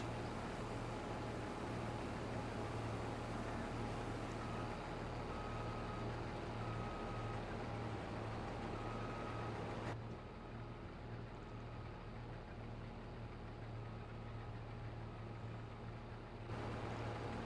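A farm vehicle in Farming Simulator 22 drives along with a steady droning engine hum, faint intermittent beeps over it, and the level dips slightly partway through.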